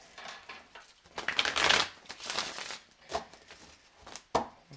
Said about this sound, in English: I feel like I need to shuffle these cards again.